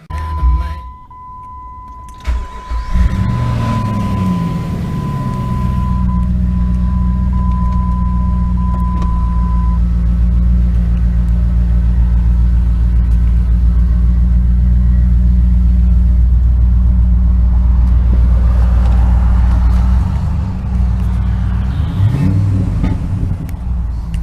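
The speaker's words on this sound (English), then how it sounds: "Sounds pretty good with this exhaust." A Jeep Grand Cherokee WJ engine with an aftermarket exhaust starts and settles into a deep, throaty idle, loud and close, with a brief beep early on and a couple of small revs toward the end.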